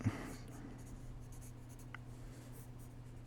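Rough, loose pencil sketching on paper, a quiet continuous scratchy rasp of strokes against a steady low background hum, with no one talking.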